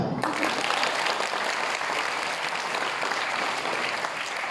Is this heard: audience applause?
yes